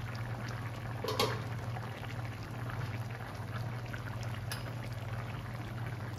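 Tamarind water goes into a simmering Northern Thai Hang Lay pork curry, a soft continuous liquid pour and bubbling against a low steady hum, faint and even throughout.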